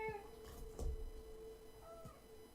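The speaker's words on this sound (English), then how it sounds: "She's like sleep meowing." A sleeping cat lets out a few soft, faint meows indoors during a cosplay crafting session, two brief quiet mews separated by a pause over a low room hum.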